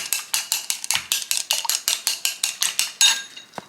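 A spoon clinks rhythmically against a glass while stirring supplement powder into a drink, about a dozen quick, bright metallic taps, close and loud, with no one talking.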